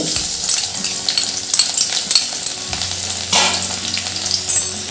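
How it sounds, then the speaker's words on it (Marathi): Chopped garlic sizzles in hot oil in a pan while jowar murmura chivda is made, a steady close crackle broken by a few clinks of utensils and a swell of hiss near the end. "बारीक चिरून घेतलेला लसूण टाकते"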